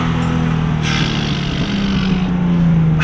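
A Nissan Silvia engine revs hard and accelerates, a loud, steady, close drone that rises slightly in pitch toward the end, with no talking.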